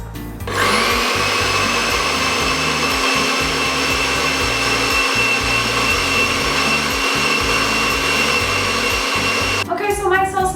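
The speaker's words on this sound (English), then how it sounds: "It's important to scrape down the sides just to make sure that all the peppers are getting blended." A blender running steadily at high speed as it purees peppers, a loud continuous whirring motor with a busy grinding undertone that holds for about nine seconds before cutting off abruptly.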